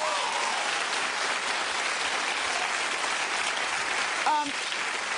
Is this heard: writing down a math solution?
no